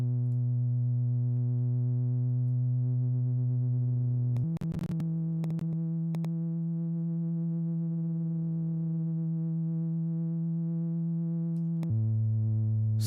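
A sustained synthesizer tone hums steadily, its pitch shifting a few times with a brief wobbling swirl midway, loud and alone.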